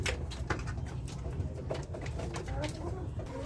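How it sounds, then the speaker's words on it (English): Poultry on a farm coo and cluck in a busy flock, a continuous near chorus of soft bird calls with scattered scratching and shuffling. "These birds, they need food."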